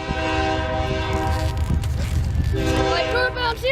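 A northbound CSX freight train rolls past with loud, sustained horn blasts, steady rumble and rail noise filling the scene close by; a voice briefly comes through under the horn.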